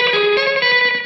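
Guitar run through a Keeley Caverns, Maxon AD9 or Catalinbread Belle Epoch delay pedal with the mix turned up, sustained distorted notes smeared by dense repeating echoes, loud and steady throughout.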